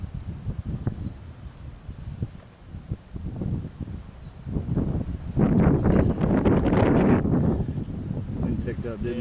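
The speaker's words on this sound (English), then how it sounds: "wind's picking up" Gusty wind buffets the microphone at an outdoor rifle range, rumbling low and building into a stronger sustained gust in the second half, with faint background sounds.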